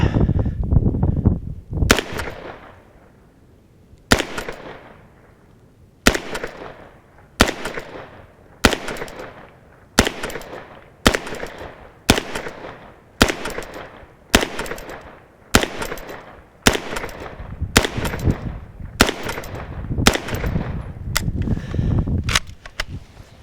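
A PTR 9C rifle fires about fifteen sharp, loud shots in a slow, fairly even series, each crack ringing out close by with a brief decaying echo and quiet gaps between.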